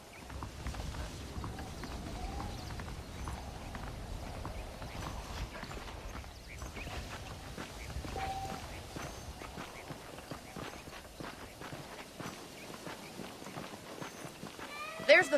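Horse hooves clip-clop at a walking pace through a Red Dead Redemption game scene, a steady rhythm of light strikes running under ongoing spoken dialogue and ambient game sound.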